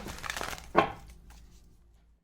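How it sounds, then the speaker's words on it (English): A deck of tarot cards is shuffled nearby in a quiet room: one quick, crisp riffle burst, then a soft rustle that fades away, with no talking. "We are definitely going to put a little extra love here in this next shuffle."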